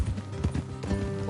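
Horse hooves clip-clopping in Red Dead Redemption 2, quick close hoofbeats on a road over game ambience, brief and fairly loud.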